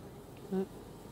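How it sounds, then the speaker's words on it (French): Honeybees pour out of a hive in a brief buzzing swell, a short loud hum rising over a quieter background drone of insects. "ça dégueule d'abeille"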